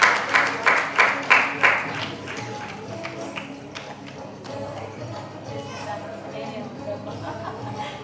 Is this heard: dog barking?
no